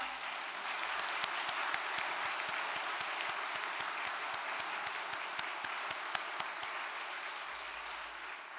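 A congregation at a church assembly applauds in a steady, even wash of clapping, fairly faint and distant, with a few sharper individual claps standing out throughout.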